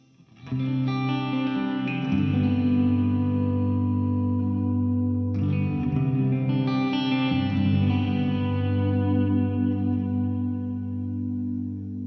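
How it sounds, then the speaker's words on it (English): Electric guitar played through a TC Electronic Hall of Fame 2 reverb pedal with modulation, sustained chords ringing out with a floating, shimmering wash, restruck twice and swelling continuously with no talking. "Can you hear it floating? It's not the straight delay, so the reverb."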